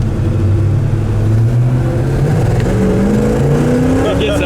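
A 1967 El Camino with a 700R4 transmission accelerates hard, the engine note climbing loud and close, dropping as a gear change lands, then rising again. Voices speak over the engine.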